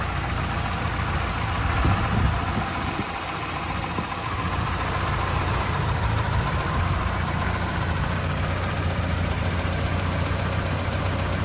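A 1986 Ford Capri Laser with a 1.6 overhead-cam four-cylinder idles steadily close by, a low, even rumble with a constant mechanical hum throughout and no voices.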